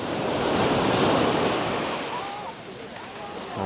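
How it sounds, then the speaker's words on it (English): Ocean surf at Thomas Beach, Bali, rolls and washes in a broad roar, rising then easing, with wind buffeting nearby; faint voices and bird-like calls drift in the background. "Very, very beautiful ocean this."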